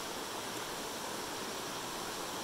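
Steady rushing hiss of a stream or small waterfall outdoors, continuous and fairly close, with no voices over it.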